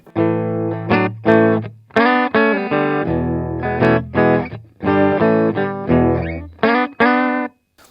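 Electric guitar played through the clean channel of a Marshall Valvestate 8080 amplifier: a series of bright, ringing chords and notes struck one after another in short phrases with brief gaps, loud and close, with no voices.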